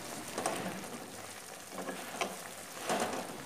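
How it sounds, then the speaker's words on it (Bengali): Fried boirali fish added to boiling water in a pan of curry, sizzling and bubbling with a soft crackle and a few louder spits and stirring sounds, fairly faint and close. "জলটা ফুটে এলেই ভেজে রাখা বৈরালি মাছগুলো ওর মধ্যে ছেড়ে দেব"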